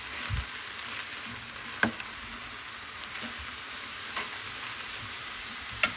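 Garlic granules and frozen peas fry in a pan with a quiet, steady sizzle. A few soft clicks of stirring come through, and no one speaks.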